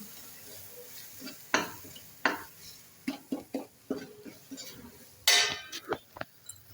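A spoon stirs aloo matar curry with chilli in a pan, giving a run of sharp scrapes and clacks over a faint sizzle, with no talk.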